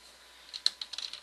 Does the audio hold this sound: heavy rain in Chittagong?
no